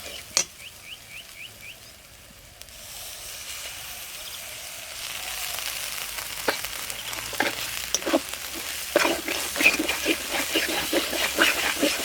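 Cumin-coriander paste hitting hot oil for a Bengali bhetki fish curry with potato and cauliflower, a soft crackling sizzle that builds and thickens, with sharp stirring clicks and pan knocks scattered throughout.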